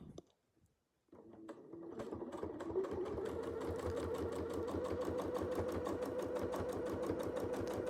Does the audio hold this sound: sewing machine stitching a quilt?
yes